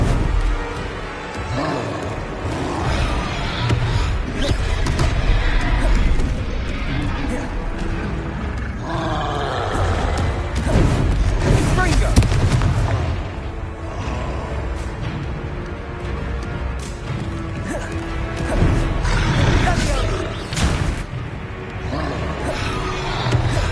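Loud, dense game combat from Hogwarts Legacy with a Confringo blasting spell cast again and again, booming explosive bursts and roaring impacts layered over a constant rumble, with voices heard now and then.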